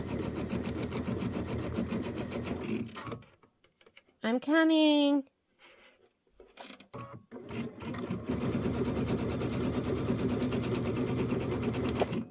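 A sewing machine stitches pieced quilt blocks in steady, close, continuous bursts, stopping for a few seconds while someone speaks briefly and then running on again.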